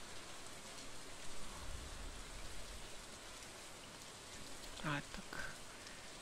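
Steady rain in the farming game Stardew Valley, a dense continuous hiss of falling drops with someone speaking briefly over it near the end.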